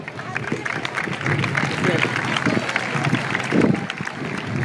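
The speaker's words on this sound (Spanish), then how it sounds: "Fuerte aplauso para él." Crowd applause for the club president at a team presentation of a Spanish football club, Unión Deportiva Los Barrios, clapping mixed with crowd murmur and swelling briefly near the end.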